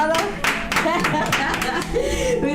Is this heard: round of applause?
yes